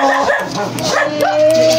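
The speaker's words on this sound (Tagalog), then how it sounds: "May aso." A small dog yips and whimpers repeatedly in quick bursts, close and fairly loud, with some voices mixed in.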